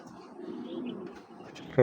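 A male pigeon named Python gives a soft, low, drawn-out coo close by, a steady murmuring rumble that ends in a sudden sharp knock.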